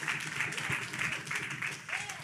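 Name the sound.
audience clapping hands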